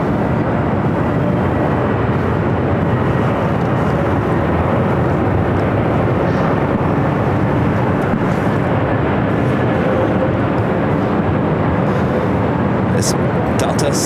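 Delta Boeing 767-300ER airliner on flight 485 to Honolulu at LAX, a loud, continuous broadband jet engine roar that holds steady throughout, with a voice talking over it.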